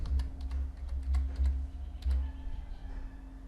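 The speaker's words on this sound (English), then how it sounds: "Now on the command prompt just type one command" Quick clicking keystrokes on a Windows computer keyboard as a short command is typed into the command prompt, a close, brisk run of taps over a faint hum.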